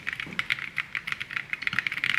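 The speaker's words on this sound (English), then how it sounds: "listen to the keyboard right here." Fast keystrokes on a gaming PC keyboard in a house, a steady run of crisp, close clicks with a soft, creamy thock, rhythmic and uneven, heard alone without talk.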